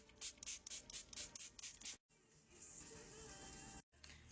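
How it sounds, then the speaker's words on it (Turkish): Rapid bursts of fine makeup setting spray hiss close up, several quick pumps in a row, then a longer steady hiss before a short pause and another spray. "Sabitleme spreyi."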